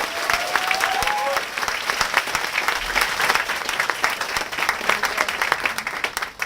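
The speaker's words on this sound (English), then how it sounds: "Let's give Yan Yan a round of applause" A room full of people gives a steady round of applause for Yan Yan at a stage event, dense and sustained, with a short whistle-like tone near the start.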